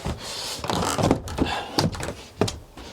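A wooden door is handled and knocks shut in a workshop where wood and nails are being worked, giving several close, dull thunks spaced unevenly over a few seconds, with no talking.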